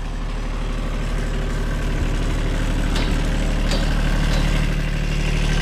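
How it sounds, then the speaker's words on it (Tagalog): An engine idles nearby, a loud, steady, low chugging throb with an even mechanical rhythm and a few faint knocks over it. "Chine-check lang po natin ang makina."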